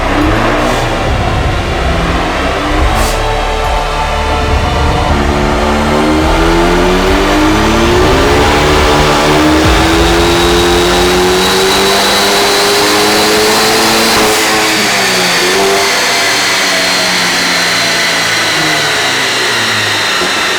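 A tuned Stage 2 Hyundai i30n (PFL) engine winds up loud and steady on a dyno power run, pitch climbing through the revs over a constant rush of roller and fan noise, then easing off near the end with no talking.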